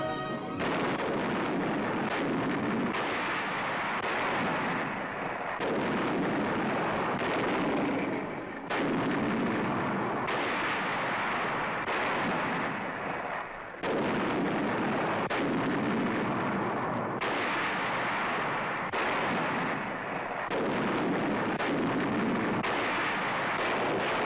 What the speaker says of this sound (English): Long toms and howitzers on target, and the enemy is subjected to a pattern of firepower that is devastating.